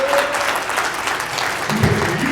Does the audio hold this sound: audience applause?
yes